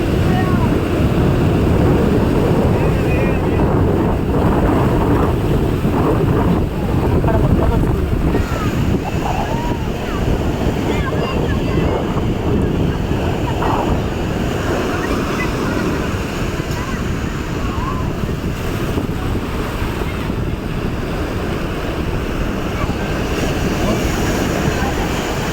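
Surf breaking steadily at Konark beach, with strong wind buffeting the microphone in a loud continuous roar and voices talking intermittently over it.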